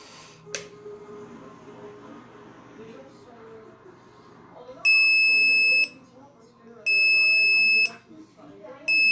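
An Audi TT 8N instrument cluster, just reconnected, gives three loud, steady electronic beeps about a second long each, evenly spaced, after a stretch of quiet handling noise.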